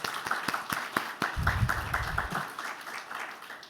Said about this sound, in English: So quick round of applause for all of our speakers.